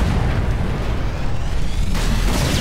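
Grenade blast in the shooter game Ghost Recon Phantoms, a loud, dense low rumble that rolls on for a couple of seconds with a fresh burst of crackle near the end, no voices over it.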